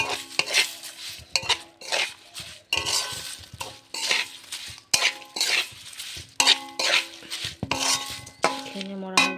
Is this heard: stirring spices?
yes